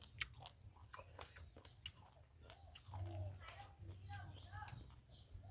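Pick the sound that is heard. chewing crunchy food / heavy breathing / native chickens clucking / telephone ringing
chewing crunchy food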